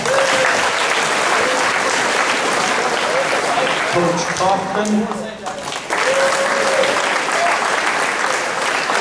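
Audience applause for assistant coaches at a high school track and field awards night, sustained and loud across the whole stretch, with a voice announcing a coach's name over the clapping partway through.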